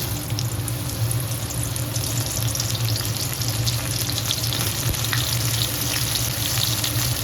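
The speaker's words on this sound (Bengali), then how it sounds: "এই আলু ভাজা তেলের মধ্যে পটলটা দিয়ে দিলাম।" Pointed gourd dropped into hot oil left from frying potatoes, giving a steady, loud, close sizzle with crackling texture that holds unbroken throughout, with no talking.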